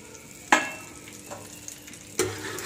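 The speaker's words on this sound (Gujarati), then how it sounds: "6-7 જેવા પાપડ તળાઈ જાય એટલે એ જ તેલમાં આપણે શિંગદાણા એડ કરીશું" Peanuts, roasted chana and curry leaves frying in oil left over from frying rice papads, heard as a low steady sizzle with two sharp stirring clatters, near and without speech.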